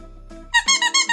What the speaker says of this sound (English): little squeaky snowman dog toy